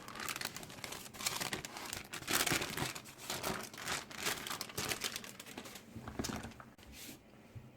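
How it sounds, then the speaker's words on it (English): Baking paper crackles and crinkles steadily as it is peeled away from a hardened loaf of homemade lamb tallow soap, a close, busy rustle that fades toward the end. "Take my baking paper off, some marks there where it's been creases in the paper."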